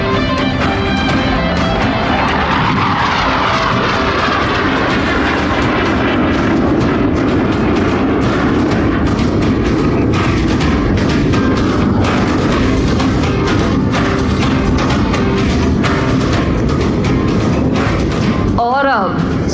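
A HAL Hawk Mk 132 jet makes a flypast at the Rashtriya Ekta Diwas celebrations at the Statue of Unity, giving a sustained, loud, broadband roar that swells and fades over about twenty seconds while a voice talks over it.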